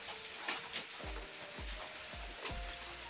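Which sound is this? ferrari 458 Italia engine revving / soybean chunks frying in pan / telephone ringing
soybean chunks frying in pan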